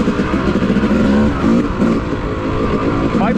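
A two-stroke dirt bike engine revving on an off-road trail, a loud, buzzy, continuous drone up close with rising and falling pitch and a quick rev at the end, a voice talking over it.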